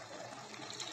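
Water poured into a pan holding poppy seed paste for a rohu fish dish, a brief, faint liquid pour lasting about a second.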